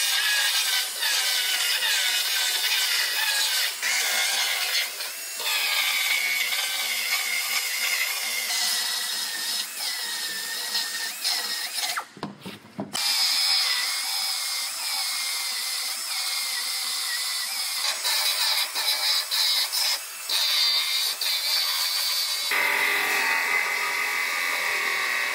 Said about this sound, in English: So I'm gonna go ahead and start cutting this outer panel off.